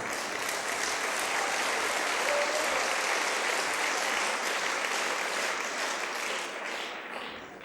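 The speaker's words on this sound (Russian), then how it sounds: "Мы все хлопаем" A church congregation gathered for Pastor Sunday Adelaja's birthday applauds, a dense, steady wash of many hands clapping together that holds loud for several seconds before easing slightly at the end.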